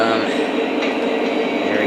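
A Lionel SD70ACE model train locomotive runs with a steady, fairly loud mechanical whirr and rumble for about two seconds, with no talk.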